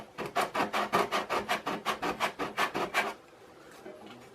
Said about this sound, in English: I'm going to hit that just quickly with a little sandpaper there. That's probably a 120 or so on here.